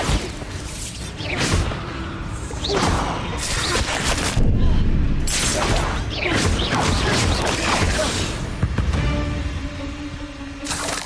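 A Bombarda explosion spell in Hogwarts Legacy: booming blasts and crashing debris in dense, loud succession amid whooshes and combat clatter, with no clear talk.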